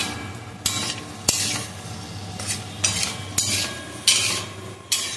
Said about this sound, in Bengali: ভাজা চলছে বাদাম তেলের মধ্যে